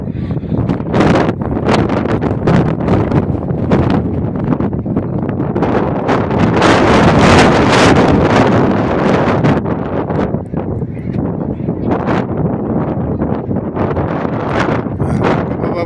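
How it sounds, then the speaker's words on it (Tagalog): Strong wind buffets the microphone outdoors in Sydney, making a loud, continuous rumbling roar that swells and gusts for the whole stretch. "Gawa ng hangin."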